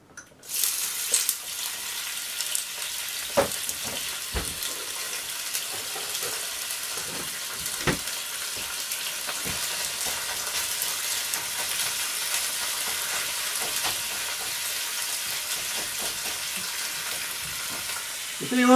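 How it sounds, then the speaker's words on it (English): Potatoes sizzle and crackle steadily in a hot stainless steel pan, a continuous frying hiss with occasional scrapes, no voices. "really nice for frying up these spuds like this."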